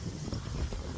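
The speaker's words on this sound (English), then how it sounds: "it's really windy out here" Wind blows outdoors, buffeting the microphone with low, uneven rumbling gusts for about a second, with no talk.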